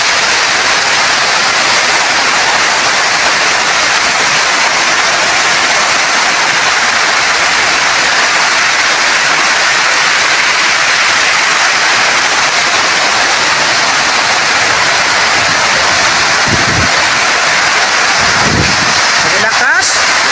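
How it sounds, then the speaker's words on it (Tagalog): Heavy rain pours steadily in a dense, loud hiss that fills the whole stretch during a thunderstorm with flooding, with little wind and a couple of brief thumps near the end. "Yung ulan malakas, yung hangin hindi masyado."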